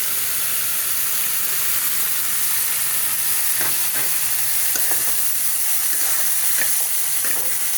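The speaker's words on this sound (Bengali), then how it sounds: "এই পেস্টটা এর মধ্যে দিয়ে দিই।" A paste of ground poppy seeds, mustard, sesame and green chilli goes into a hot frying pan for a poppy-seed fish dish, giving a steady close sizzle broken by a few sharp spoon taps near the end.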